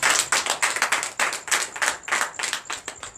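Clapping from a congregation at a Friday night deliverance and prophecy church service, a dense run of sharp hand claps that rise and fall in loose bursts, close and steady with no voices over it.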